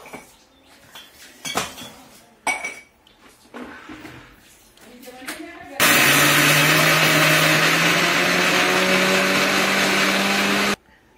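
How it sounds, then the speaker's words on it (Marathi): A few kitchen clinks and clatters come first, then a mixer grinder grinding spice masala fine roars loudly and steadily for about five seconds before cutting off abruptly. "आपला बारीक मसाला काढून घ्यायचा मिक्सर मधून"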